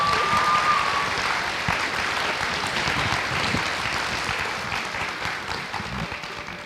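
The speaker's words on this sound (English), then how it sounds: "Please give them a round of applause." Sustained audience applause at a high school author visit, dense clapping from a large group filling the room, loud at first and tapering slightly over several seconds.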